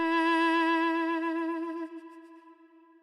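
A sustained reedy duduk note, warm and breathy, holds steadily then fades into a soft added reverb tail.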